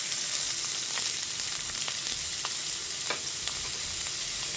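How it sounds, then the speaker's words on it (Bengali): Medium-sized chopped onion drops into a pan where garlic has just fried, giving a steady close sizzle on a low gas flame with occasional light stirring clicks, no voices. "তারপর এতে দিয়ে দিচ্ছি একটা মিডিয়াম সাইজের চপ করে নেওয়া পেঁয়াজ"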